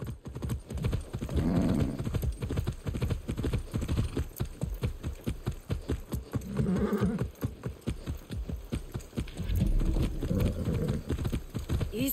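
Horse hooves clip-clop in a steady rhythmic gait while riding in the Far Cry 6 video game, close and continuous with regular thudding beats and occasional faint snorts.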